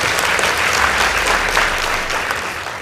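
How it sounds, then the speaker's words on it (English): Audience applause at a high school debate contest for the Ruiri girls team: loud, dense clapping from a crowd that holds steady, then begins to taper off toward the end. "Please give them a round of applause."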